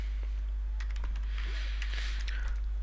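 Keys clatter on a computer keyboard in quick, light bursts as a web address is typed into a browser, close and moderately quiet over a steady low hum.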